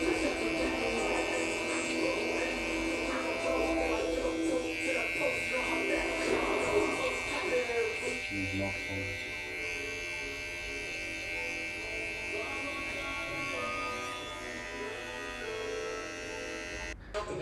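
Electric hair clippers fitted with a guard buzz steadily and close throughout while cutting a mid taper, a continuous motor drone with slight shifts as the blade moves through hair.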